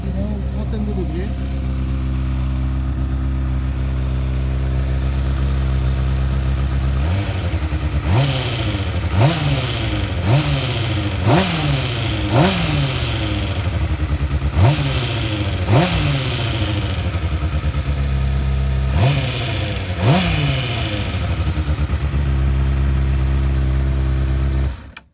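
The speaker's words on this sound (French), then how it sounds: "Et voilà ce que ça donne pour le son de la moto." A 2010 Honda 600 Hornet C-ABS motorcycle idles loudly and steadily, its engine rising in a series of sharp repeated revs before settling back to idle, close and alone.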